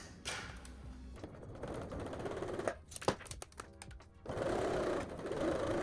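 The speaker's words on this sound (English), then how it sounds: "I want to make sure that I am sewing in the groove" A sewing machine stitches bias tape onto a V-neckline on a thrifted garment, sounding in a few whirring bursts broken by brief pauses and clunks, close and fairly quiet with no talking.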